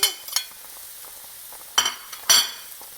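A pan of scallions and vegetables for a turmeric vegetable omelette is stirred over a low, steady sizzle, with a few sharp utensil clinks and scrapes against the pan.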